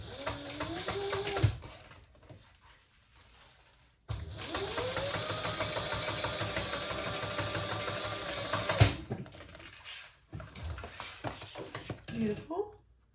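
A sewing machine top-stitches along a gusset piece of a sling bag, running in close, whirring bursts with a steady needle clatter, one long run between shorter ones, with brief pauses and a quiet voice between bursts.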